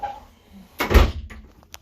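A shower door clips open inside a Keystone Raptor 413 toolbar RV: a single soft thump and rattle, close by, with a few faint clicks afterward in a quiet room.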